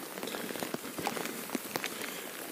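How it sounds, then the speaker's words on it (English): Rain falling outdoors, a steady patter of drops striking surfaces with scattered sharper taps, soft and fairly distant, without talking. "it's raining and I really don't want it to get rained on"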